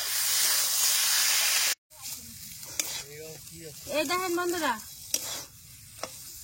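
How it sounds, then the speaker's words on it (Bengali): Boiled potatoes go into a pan of frying onion, turmeric and spices, giving a steady hiss and sizzle with scraping stirs, while a voice talks over the cooking. "এখন সিদ্ধ করে রাখা আলুটা দিয়ে দেবো"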